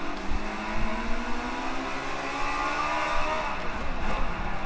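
A Lotus Type 49 race car in Forza Motorsport 5 with assists off, its engine droning steadily at high revs with slight pitch shifts, heard close and continuous throughout.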